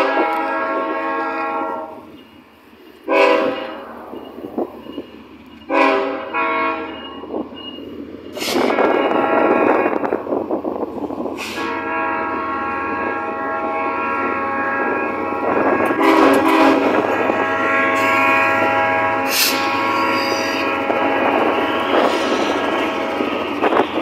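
A KCSM freight train passes close by at Linda Vista, its loud horn blowing in long repeated blasts over the continuous rumble and clatter of rolling railcars.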